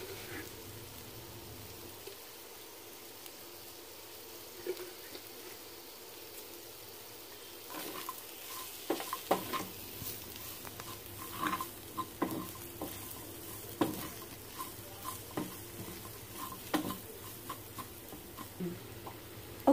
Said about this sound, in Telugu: ఒక 2 మినిట్స్ వేయించేసి తీసేద్దామండి.